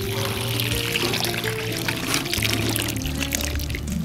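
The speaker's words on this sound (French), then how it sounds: "une fois qu'on a fini la transplantation, la première des choses à faire, c'est de veiller à l'arrosage." Water pouring steadily onto a newly transplanted strawberry plant, a continuous splashing stream close by without pause, with no voices over it.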